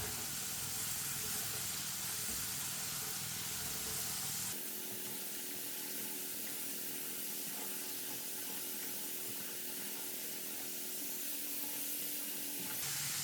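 Potato chips fry in clean oil while being stirred with a spoon, giving a steady, bright hiss that runs the whole time and shifts in tone partway through.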